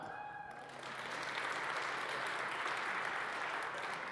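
An audience at the Zezula Award event claps in a dense, steady burst that swells after a quiet opening and holds to the end.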